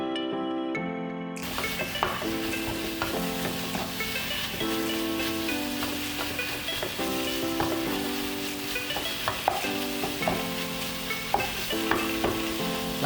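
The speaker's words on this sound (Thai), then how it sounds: "หลังจากที่เนยเราละลายเรียบร้อยแล้วนะครับก็ให้ใส่กระเทียมลงไปนะครับ" Garlic frying in melted butter breaks into a steady sizzle after a brief quiet start, with stirring scrapes and soft background music running underneath.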